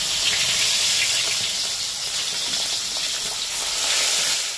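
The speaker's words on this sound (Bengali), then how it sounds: "কিন্তু আমি মাছটা একটু কড়া ভাজি" Tengra fish fried crisp in hot oil, a loud continuous sizzle and hiss that stays steady close up, with no voices.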